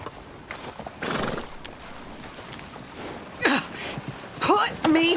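A horse whinnies in two rising, strained calls amid a few thudding hoofbeats and shuffling, close by, while people talk around it.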